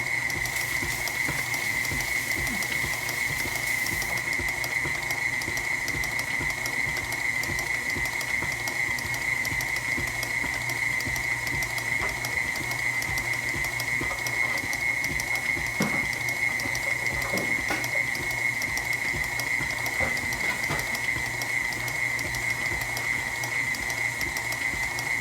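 A kitchen machine kneads dough with a continuous mechanical whir and a steady high whine, joined by rhythmic clicking and ratcheting from the gears, running unbroken at a constant level with no talking.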